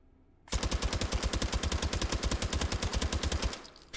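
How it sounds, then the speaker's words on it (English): An Uzi 9mm submachine gun in the VR shooting game Hot Dogs, Horseshoes and Hand Grenades fires one continuous loud, rapid automatic burst of about three seconds, then a faint mechanical click. "despite it being still chunkier than expected, it's still a rather compact submachine gun"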